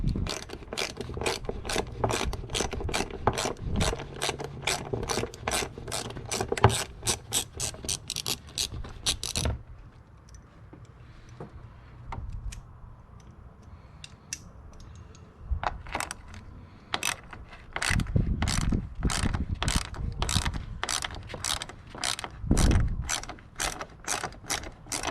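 A ratchet clicks in rapid, crisp bursts while loosening fan shroud bolts on a 2009 Nissan Frontier SE, close up, with a quieter pause of metallic handling between two runs of clicking.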